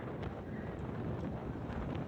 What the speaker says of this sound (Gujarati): વાવાઝોડું પણ ચાલુ છે